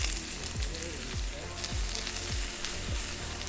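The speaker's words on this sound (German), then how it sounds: "dann gebe ich hier die Zwiebeln rein" Onions sizzling as they fry in a hot wok, a steady crackling hiss with soft periodic low thumps, close and fairly loud, no talking.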